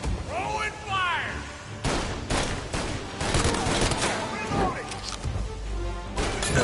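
Gunfire in Mafia Definitive Edition rattles in loud, dense bursts across the scene, mixed with crashes and impacts while voices shout over the fighting.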